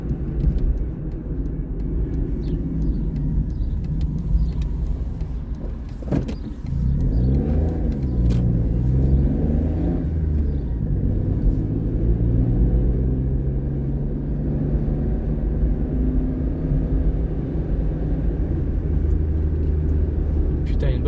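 Rally cars on reconnaissance for special stages near Saint Marcellin and Varacieux pass one after another on the road: steady engine rumble builds, one car roars close by with a rising and falling pitch sweep, then fades into the distance.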